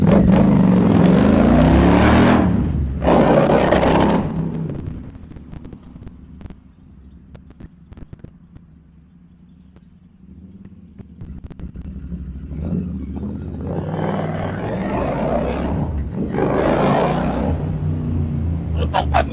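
A 2019 Royal Enfield Interceptor 650 motorcycle engine runs close by with a steady low rumble, louder at the start and end, dipping to a quieter idle in the middle.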